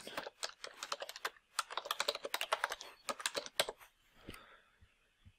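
Rapid typing on a computer keyboard while entering text on a website setup page: dense bursts of close, crisp key clicks for about four seconds, then a few sparser taps, with no talking.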